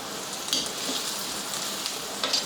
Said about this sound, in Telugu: దానిలోకి కట్ చేసిన ఒక 5-6 మిరపకాయలు, ఒక 3 మీడియం సైజు ఉల్లిపాయలు వేసుకుని చక్కగా మంచిగా వేగనివ్వాలి